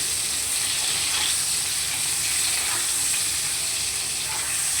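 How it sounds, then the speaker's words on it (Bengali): Slices of pointed gourd (potol) fry in hot oil in a home kitchen, giving a steady, even sizzle that hisses continuously without a break and with no talking. "পটলগুলো দেখো আমার ভাজা হয়ে গেছে"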